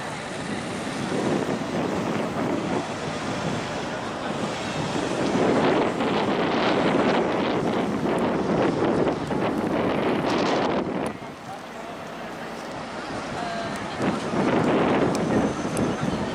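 Strong wind buffets the microphone outdoors at Jerónimos Monastery in Lisbon, a loud continuous roar with surging gusts that briefly eases near the middle before rising again.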